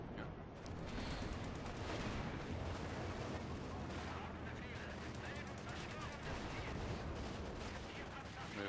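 An anti-aircraft flak emplacement in the Company of Heroes 2 strategy game pounds away amid dense battlefield gunfire, a loud, unbroken wash of rapid shots and booms, with a voice talking over it.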